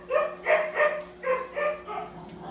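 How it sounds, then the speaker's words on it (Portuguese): Several dogs bark outside the house in a rapid series of about six sharp, yelping barks, fairly close and alone, with no talk over them. "Os cachorros atrapalhando ali fora."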